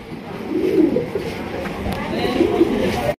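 Black Archangel pigeons at a pigeon sale coo in low, throaty bursts, close by and fairly loud, twice in quick succession, with faint background chatter around them.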